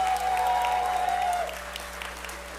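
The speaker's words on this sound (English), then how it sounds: "give them a big round of applause" Theater audience at a puppet cabaret breaks into sustained, fairly loud applause that holds steady before easing slightly, with a thin steady tone ringing over the clapping.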